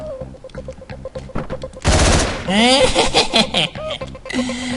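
Machine gun fire from the video game Hotline Miami comes as loud, rapid bursts of stacked shots, with a dense burst in the middle followed by synthetic game effects and a few short hits.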